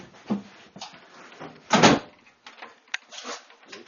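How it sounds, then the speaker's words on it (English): A carriage door on the West Somerset heritage railway being worked open, with a few knocks and latch clunks and one louder rattling thud in the middle, heard close up. "Now I can't open the door normally."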